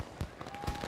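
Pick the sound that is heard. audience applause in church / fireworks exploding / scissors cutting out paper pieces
fireworks exploding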